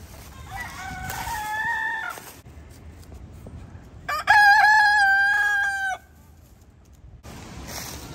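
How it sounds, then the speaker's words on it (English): Chickens on a farm, a hen with her baby chicks, sound close by: high chirps and clucks come first, then a loud, drawn-out crow-like call mid-clip, with outdoor background around it. "And there's the baby chicks."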